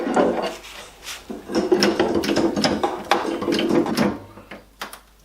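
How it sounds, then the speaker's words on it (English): Close wooden creaking and ratcheting clicks as a wood glue press is cranked tight on glued wooden strips, with rubbing and knocking between turns. "And into the press that they go."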